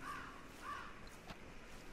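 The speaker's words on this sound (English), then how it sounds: "Ah, yes, crows." Crows cawing in Red Dead Redemption 2, two faint harsh caws spaced apart early on over a quiet outdoor background, with a small click later.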